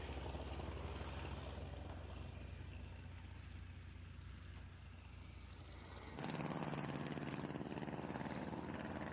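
A replica Fokker DR-1 three-winged triplane fighter flies at a British airshow, its propeller engine droning loudly and steadily, then swelling louder and rougher in the closing seconds.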